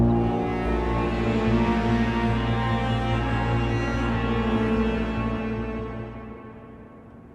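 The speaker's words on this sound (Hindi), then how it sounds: "अरे हॉर्न क्यों बजा रहे हो?" A single long, loud horn blast holds steady for several seconds, then gradually fades away.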